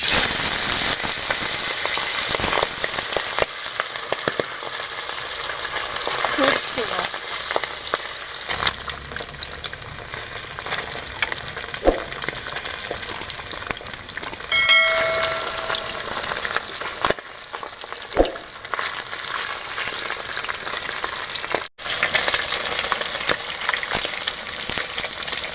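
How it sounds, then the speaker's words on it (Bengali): Pabda fish fry in hot mustard oil in a wok. The loud, steady sizzle carries on throughout, broken by sharp crackles and spits. "আমি এবার মাছগুলো তেলে ছেড়ে দেবো।"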